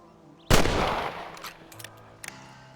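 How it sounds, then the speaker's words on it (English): A single loud rifle shot rings out in the Western video game Red Dead Redemption at Marston Ranch, with a long decaying echo and a few faint clicks and knocks following it. "Your back's tense and it's making the rifle jump."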